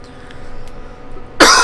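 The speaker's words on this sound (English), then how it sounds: "I am sorry about all the coughing in my videos." One sudden loud cough from a person with a dry throat, bursting out after a stretch of quiet room noise.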